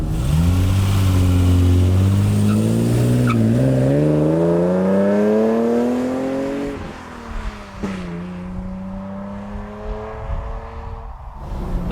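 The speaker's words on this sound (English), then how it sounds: "The exhaust on this car is non-standard, having been modified by its previous Japanese owner, and it sounds delicious." Alfa Romeo SZ with a modified, non-standard exhaust revs close by: a loud engine note climbs steadily, dips briefly, climbs again, then falls away to a lower idle-like drone. No one speaks.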